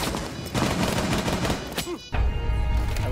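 Rapid gunfire rattles through a Rainbow Six Siege match, loud close bursts of automatic shots with a short break and then renewed firing, while a player talks briefly.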